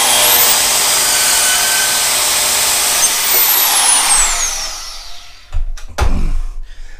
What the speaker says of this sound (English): you could easily pull out your bandsaw and you know, cut this stuff right off